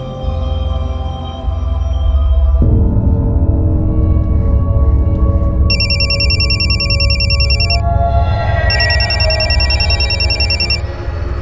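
A telephone rings in repeated electronic bursts over a loud, steady low rumble of background music, fairly close and prominent.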